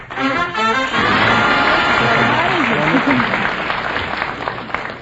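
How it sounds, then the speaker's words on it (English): A studio audience at the game show You Bet Your Life breaks into loud, sustained applause, a dense wash of clapping that swells quickly and holds for several seconds as a voice talks over it. "Some rat out there started the applause."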